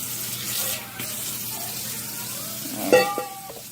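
A little water poured into a hot baking tin of jerk pork, a soft watery hiss with light sizzling, then a brief louder splash and bubbling near the end.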